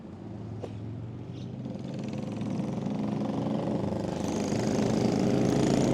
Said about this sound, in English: There's those noisy motorcycles that guy doesn't like.